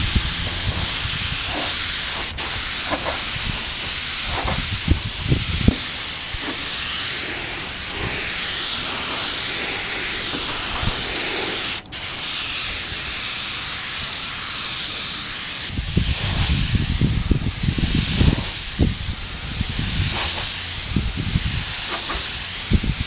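Low-pressure spray gun at about 20 psi laying thin coats of paint on a Kawasaki Ninja motorcycle fuel tank, a steady hiss running throughout with louder bursts near the end.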